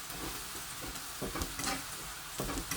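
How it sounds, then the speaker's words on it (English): Sliced plantain fries in hot oil in a pan, giving a steady close-up sizzle with soft crackles and occasional stirring bumps, alone without talk. "I'm adding some oil to it. And I'll be start frying"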